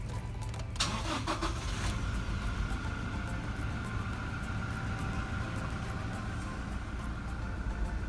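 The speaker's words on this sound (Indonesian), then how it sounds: "kamu bisa men-starter engine dari mobil kamu" A car engine cranks briefly with the starter, catches, and settles into a steady, even idle near 800 rpm that hums on unchanged.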